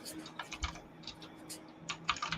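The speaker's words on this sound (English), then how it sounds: "I'm typing because I'm trying to look at the picture. So if y'all hear that, I'm sorry." Typing on a computer keyboard, close by, with irregular clusters of crisp key clicks and short pauses between bursts over a quiet background hum.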